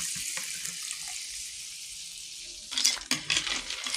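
The first coconut milk is poured into a pan for ginataang susu, a faint steady sizzle and trickle that turns into louder splashing bursts near the end, with no voices.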